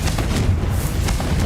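A Confringo fire spell goes off in Hogwarts Legacy as a dense, rumbling blast of noise, loud and sustained across the whole moment with a few sharper crackles inside it.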